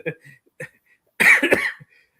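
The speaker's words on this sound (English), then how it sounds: "Now I'm going to go into a coughing spell here" A short, harsh burst of coughing close by, following a few brief murmured sounds.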